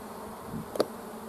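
Honey bees in a small three-frame nucleus hive at the start of winter give a faint, steady low buzz, with one brief louder burst of buzzing close by.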